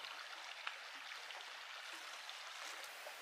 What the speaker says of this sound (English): with that beautiful, beautiful, beautiful little creek coming down there